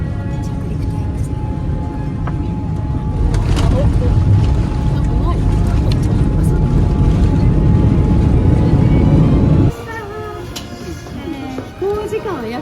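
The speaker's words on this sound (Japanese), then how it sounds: "着陸タイムです。" An airliner landing on a five-hour flight into Paris, heard from inside the cabin as a loud, steady roar of engines and airflow that drops suddenly near the end to a quieter rumble.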